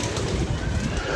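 A pigeon coos close by in a backyard pigeon loft, a steady low burble lasting the whole moment, with gusting wind rumbling over the microphone.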